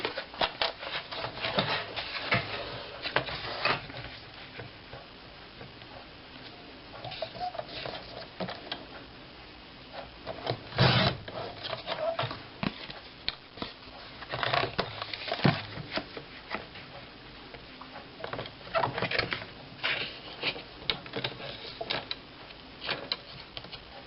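A paper trimmer slices cardstock for a recipe card box craft project, giving quiet, intermittent scraping and clicking strokes as the blade slides along, spread over a long stretch with pauses between cuts.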